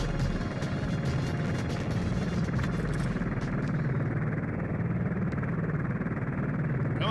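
A helicopter in the video game 007 Agent Under Fire throbs with a loud, steady low rotor chop and engine rumble, with crash-like clatter early on and no talk.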